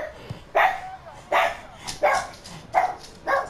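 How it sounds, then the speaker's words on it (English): A dog barks nearby indoors, about five sharp, evenly spaced barks in a few seconds, loud and close against a quiet background. "I reckon you can hear her barking in the microphone"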